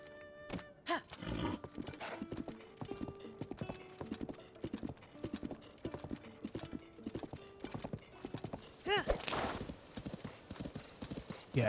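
Horse hooves in the video game Zelda: Tears of the Kingdom, a brisk steady clip-clop of galloping with an occasional whinny and a voice speaking now and then.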